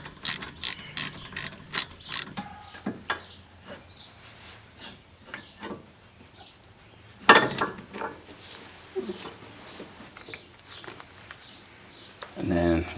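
A ratchet clicks in quick bursts while bolts on the front suspension of a BMW E30 are loosened. Metallic clanks and handling noises follow, and someone talks between the bursts.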